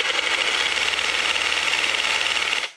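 A cordless hedge trimmer's loud, steady buzzing motor chatters rapidly and continuously at its higher speed setting, close by, then cuts off at the end.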